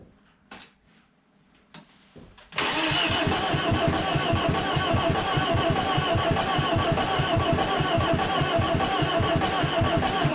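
An abandoned BMW E36 engine is cranked after a few faint clicks and a short pause. It catches abruptly and runs loud and close with a rough, steady idle pulse to the end.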